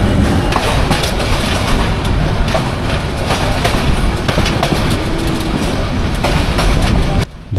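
Tista Express running from Dhaka to Dewanganj on worn track, a loud continuous rumble with rhythmic clickety-clack of wheels heard from inside the train, dropping briefly near the end.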